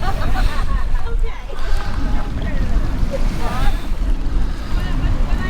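Waves wash against the fjord shore at Hafrsfjord, with a constant rush of water and gusty wind buffeting the microphone, while people talk nearby.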